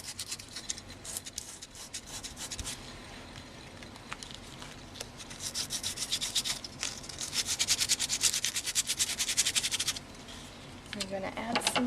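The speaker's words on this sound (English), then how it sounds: "we are going to scratch the back up a little bit" Scratching and rubbing on the back of a printed photograph, a dry abrasive rasp that comes in uneven strokes, grows louder and denser midway, then eases as people talk nearby.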